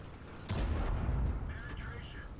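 A single heavy tank cannon shot in the World of Tanks video game, a sudden booming blast followed by a rumbling decay, with someone talking over it.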